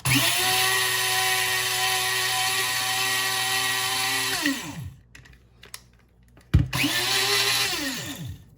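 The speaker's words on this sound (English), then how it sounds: "This will grind up like icing sugar." A blender grinds granulated sugar into fine icing sugar with a loud, steady motor whine that runs alone for about four and a half seconds, spins down, then starts again with another brief burst near the end.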